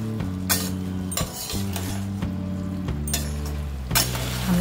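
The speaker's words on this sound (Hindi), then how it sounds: "अब हम इसमें डालेंगे दो टमाटर चॉप टमाटर सॉफ्ट होने तक हम इसे कुक करेंगे" Chopped tomatoes are stirred into half-cooked fried eggplant in a pan for aloo baingan sabji, with a soft sizzle under repeated spatula scrapes and metallic clinks against the pan.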